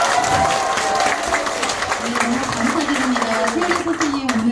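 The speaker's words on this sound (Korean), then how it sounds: "박수합니다." Audience applause at a birthday-celebration singing class, a dense wash of clapping filling the whole stretch while a voice talks over it.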